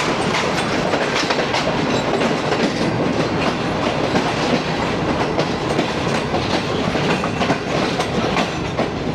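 The Shalimar Express rolls through Samasata junction, heard from aboard as a loud, dense, continuous rumble of wheels and carriages with rhythmic clickety-clack over the rails.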